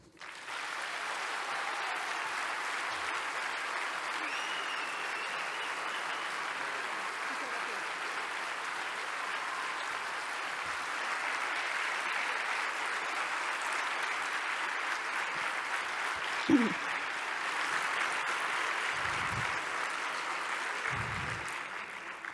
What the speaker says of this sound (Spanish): Muy merecido ese aplauso.